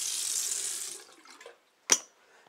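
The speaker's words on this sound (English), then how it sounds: "he must be doing the watering today" Water poured from a can onto indoor plants: a steady hissing stream for about a second that thins out and stops, followed after a short pause by one sharp drip or splash, close by and fairly quiet.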